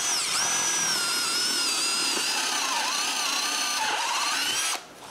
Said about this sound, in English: I can mark where to drill the holes for the wooden support and drill them.